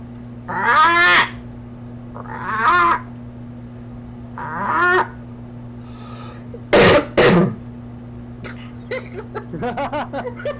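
A voice makes short, harsh bursts imitating a cough during a tabletop role-playing game session, a few separate coughs spaced apart, with a steady hum underneath.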